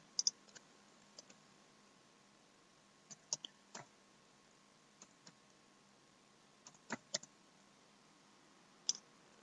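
Fingers tapping a computer keyboard while a number is entered into an online form, producing sparse, light clicks in small clusters with pauses between them, close and quiet.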